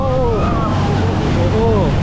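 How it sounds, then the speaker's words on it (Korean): Steady rush of water and wind around a boat cutting through another boat's wake on the river near Iguazu Falls, with voices calling out over the constant splashing noise. "좀 전에 지나간 배가 파도를 만들어줘서 스릴이 있네."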